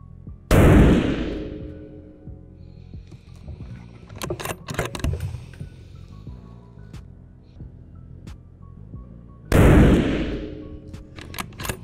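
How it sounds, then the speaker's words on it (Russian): Two loud, sharp gunshots from a scoped carbine at an outdoor range, one near the start and one near the end, with clinks and handling noises between them. "Третий выстрел"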